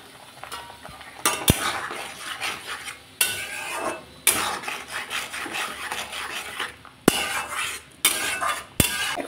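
Turmeric, salt and spices are stir-fried in a pan for a pointed gourd and potato curry. A utensil makes close, rasping scrapes in uneven bursts separated by short pauses, with an occasional sharp knock against the pan.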